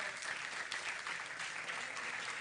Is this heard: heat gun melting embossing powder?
no